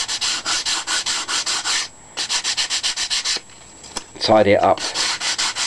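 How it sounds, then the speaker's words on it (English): Brisk, close sanding of a wooden model Sopwith Pup rudder and fin with a hand block: rapid rhythmic scraping strokes in bursts, broken by short pauses and a brief spoken phrase. "it's really a piece of sanding block, and then just sand it"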